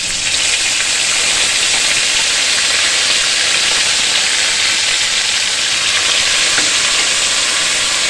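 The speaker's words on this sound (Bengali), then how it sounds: "এখানে আদা আর কাঁচা লঙ্কা ভাজা ভাজা হয়ে গেছে" Ginger and green chili paste fry in hot oil for khichdi, giving a steady, loud, close sizzle that runs without a break the whole time, with no talking.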